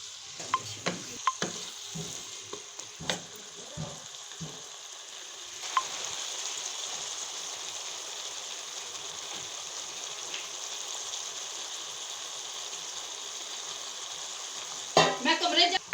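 Mixed vegetables fry in a pan with a steady sizzle, stirred with sharp scraping clacks in the first few seconds and again near the end.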